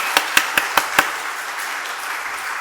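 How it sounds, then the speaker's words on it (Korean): Church congregation applause at a men's mission service, five sharp, evenly spaced claps close by, then a faint room hush with light scattered clapping. "다시 한번 뜨겁게 박수로 격려해 주십시오."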